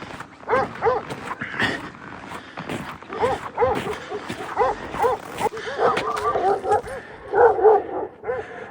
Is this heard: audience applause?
no